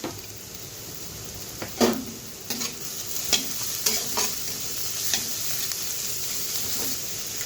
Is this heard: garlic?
yes